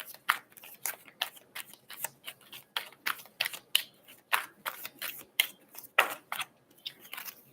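Rapid riffling and snapping of playing cards being shuffled, repeated bursts in a steady rhythm, close and fairly quiet, no voices.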